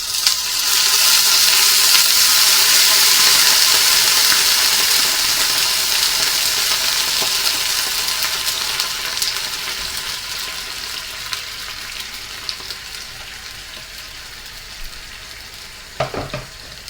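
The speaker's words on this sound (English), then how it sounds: "We're going to take our 300 mils of hot water and pour it in." Hot water poured into a hot frying pan of browning wild rabbit jalfrezi bursts into a loud, hissing sizzle that slowly dies down to a softer bubbling, close by with no talk.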